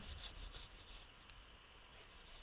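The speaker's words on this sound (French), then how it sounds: "Je guide la lime seulement, sans appuyer, jusqu'à ce que j'ai la finesse souhaitée." A nail file is drawn lightly across a fingernail during a modern ombré nail design, giving a faint, quick rasping rub repeated in short strokes, close and very quiet.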